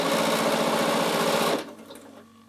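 A Bernina sewing machine fitted with a ruffler foot stitches in a fast, loud, close mechanical whir with a rapid rhythmic chatter, then stops abruptly partway through, leaving a faint hum.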